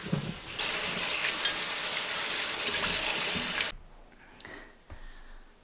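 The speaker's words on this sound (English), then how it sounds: "Fill it up with water again." Water gushes loudly from a tap into a container for about three seconds, a dense rushing splash that cuts off abruptly, followed by quieter handling clinks.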